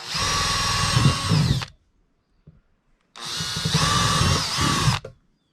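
Power drill boring drainage holes in a plastic worm bin, two loud, close bursts of high-pitched motor whine, each about a second and a half long, separated by a short pause.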